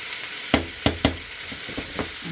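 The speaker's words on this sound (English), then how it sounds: "we're just going to finish searing up that sausage" Sausage sears in a crowded pan for slow-cooker gumbo, a steady frying sizzle under several sharp clacks of a utensil scraping and stirring against the pan, close and fairly loud.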